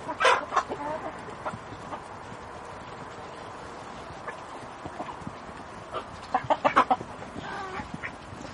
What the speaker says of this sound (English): All the chickens are getting along wonderfully.